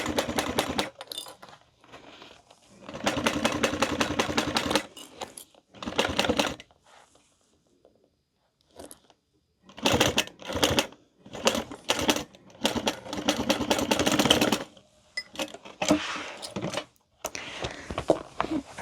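Domestic sewing machine stitching handbag fabric, running in bursts of rapid mechanical whirring and clatter separated by pauses, close and fairly loud, with no voices.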